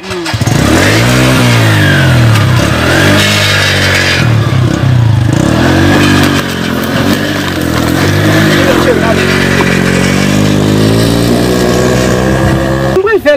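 An old motorcycle engine revs hard up close, loud rising and falling whines repeating in bursts, with a rattling clatter and voices talking over it.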